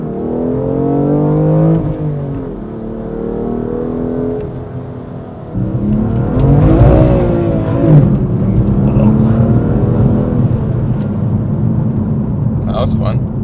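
A BMW M2 Competition engine revs while reversing, its pitch rising and falling through loud, close sweeps that overlap with people talking.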